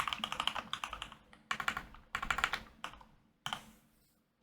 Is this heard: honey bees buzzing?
no